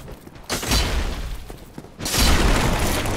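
Two heavy greatsword blows from a Zweihander slam into shield-bearing enemies in Dark Souls, each a loud, booming impact with a crashing rumble, the second stronger than the first.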